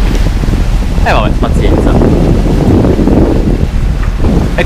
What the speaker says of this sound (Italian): Tutto a motore, vento esattamente in faccia